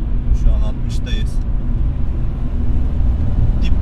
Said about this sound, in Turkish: Dip gaz kickdown yapıyorum.